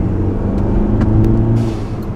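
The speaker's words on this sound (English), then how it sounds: "You can feel it spool up a lot quicker. And it's louder too." A turbocharged car engine with the turbo muffler deleted rumbles and revs loudly up close, a dense low drone with a faint rising spool and small clicks.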